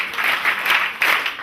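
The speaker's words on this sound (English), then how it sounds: "Clap for yourselves." Dense applause from a crowd, steady and fairly loud throughout, swelling slightly in waves.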